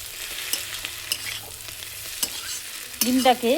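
Spoon stirring an onion-stalk (peyaj koli) and egg mixture frying in a pan, steady sizzle with scraping strokes, louder stirring bursts near the end.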